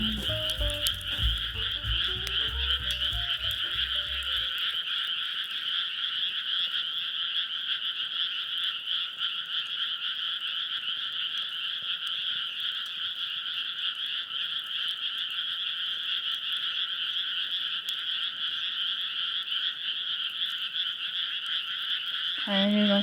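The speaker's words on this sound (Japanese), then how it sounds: "カエルがすごいね。" Dense chorus of frogs croaking steadily at a campsite at night, a continuous loud trilling wall of sound that runs almost the whole time after a brief stretch of other low noise at the start.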